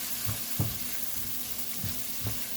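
Cooked rice being stirred into fried egg in a hot pan: a continuous close sizzle with a few distinct spatula scrapes and knocks spaced irregularly, no voices.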